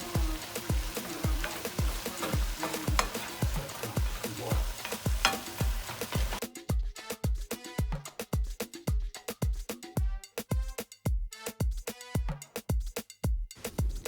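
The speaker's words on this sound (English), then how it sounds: "give it a stir ever so often and make sure it's thoroughly cooked" Ground turkey frying in a pan for a keto taco pie, a steady sizzle under rhythmic stirring scrapes, then sharper, clearer clacks of the utensil against the pan in a regular beat, close and loud.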